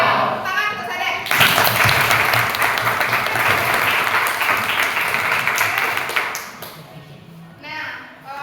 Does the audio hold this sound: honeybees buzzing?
no